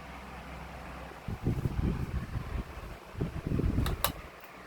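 A Lasko 16-inch wall fan runs at high speed, giving a close, steady whooshing hum with uneven surges of louder rushing air.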